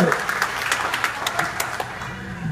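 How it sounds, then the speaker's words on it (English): An outdoor county fair concert crowd in Tipton, Iowa, applauds in a steady wash of clapping that stays fairly loud and even for a couple of seconds, with faint voices mixed in. "By a round of applause, how many of you noticed Cedar County on the sing-off?"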